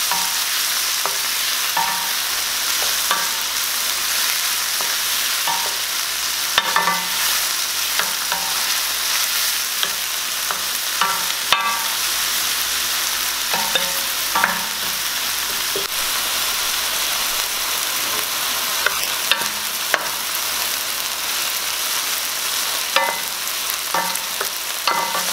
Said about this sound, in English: cook about 3 minutes until the onion becomes translucent. Many dishes, stirring is the secret that will help blend the flavors together